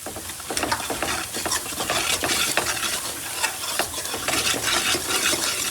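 Dry spices, salt, chili and turmeric being stirred into a golden-brown fried masala, with a steady close sizzle and frequent scraping, clinking stirs of a spoon against the pan throughout, no voices.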